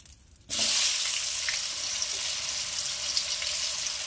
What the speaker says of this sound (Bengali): এবারে আস্তে আস্তে অন্যান্য সবজিগুলো আমি ভেজে নেব। প্রথমে দিয়ে দিচ্ছি কুমড়ো।